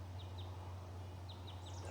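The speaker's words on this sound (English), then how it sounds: "The birds are going crazy." Faint, quick bird chirps repeat in short pairs over a steady low hum and background hiss, distant and light, during a rifle hunt in Montana.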